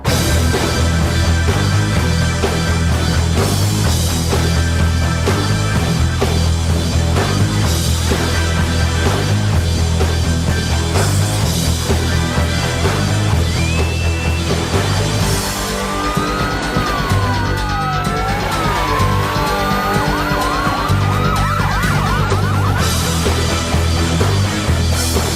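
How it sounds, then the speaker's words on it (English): Jim Johnston's "Really Raw" wrestling theme from 1997 plays loud and continuous with a driving beat, heavy bass and wailing police-style siren sounds sweeping through its second half. "It's again by Jim Johnston, and it's called Really Raw"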